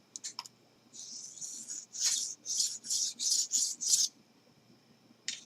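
Dull knife skidding across a sharpening stone in a run of short, bright rasping strokes, about seven close scrapes in quick rhythm after a couple of light clicks, with no talking.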